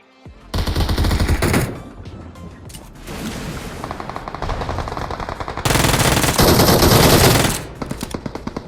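Automatic gunfire sprays in PUBG Mobile, with loud, dense bursts of rapid shots: a long burst near the start, quieter stretches of continued fire in the middle, then another loud sustained burst before it tapers off.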